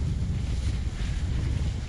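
Gusty wind roars steadily across an outdoor spot where wing foil kites are being tested, a dense low rumble buffeting the microphone throughout with slight swells, and no voices.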